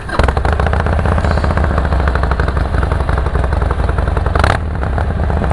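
BMW motorcycle fitted with aftermarket twin exhaust tips and an engine guard, idling close up with a loud, rapid, throbbing thump that holds steady and briefly blips near the end.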